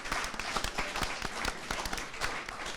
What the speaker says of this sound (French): Applaudissez très très très fort pour l'équipe A.